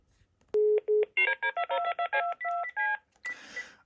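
Telephone keypad DTMF tones used in caller ID testing: two steady beeps, then a rapid run of about a dozen short dual-tone bursts, then a brief noisy burst, loud and close with no talk.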